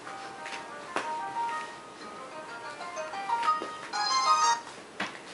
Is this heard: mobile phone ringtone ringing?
yes